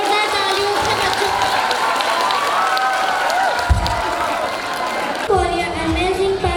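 An audience at a school annual function applauds and cheers the children after a performance, a loud, continuous crowd wash of clapping with voices and shouts mixed in, plus a few thumps near the end.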